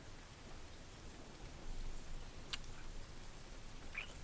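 Steady rain falls outdoors as a soft, even hiss with occasional faint drops, quiet and continuous with no voices.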